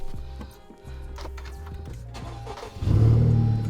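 A Type-R car engine, which runs roughly, cranks with rhythmic starter ticking, then catches and rumbles into a louder idle near the end.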